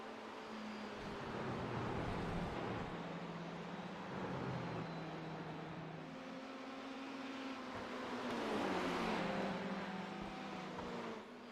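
Race cars in a racing video game sweep through the Porsche curves during a virtual endurance event, engines droning steadily and rising in pitch as they accelerate, with no talk.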